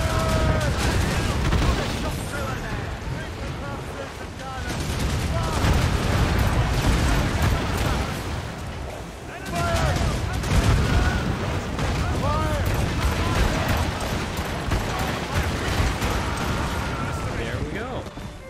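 Siege battle in Assassin's Creed Rogue with gunfire coming from behind: continuous dense rattling volleys and booming shots, steady and loud throughout, with shouting voices mixed in.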